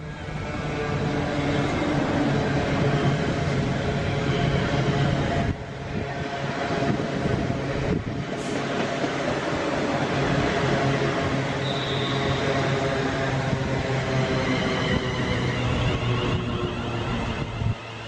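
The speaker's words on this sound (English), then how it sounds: "coming towards us is the 90s on" A freight train hauled by Class 90 electric locomotives rolls through Watford Junction station, a continuous loud rumble and rail drone sustained throughout with a brief dip partway.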